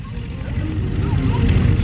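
Waco biplane propeller engine running up at an airshow, a close, steady low rumble that builds slightly in loudness over the short stretch.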